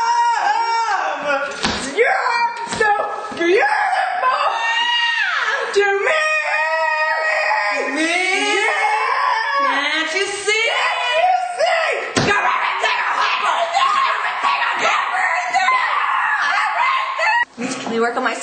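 A person screams repeatedly in a loud, strained, wavering voice, the cries rising and falling and running almost continuously close to the listener, broken by a few short slaps or knocks.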